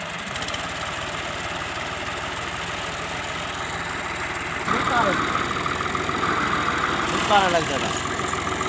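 A 385 hp tractor engine idles and labours while the tractor is stuck, a steady mid-low drone that swells louder about halfway through, with people talking over it.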